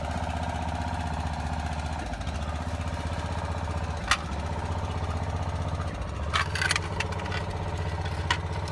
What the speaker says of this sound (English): What we want to do is crank our machine and see if we can jack this thing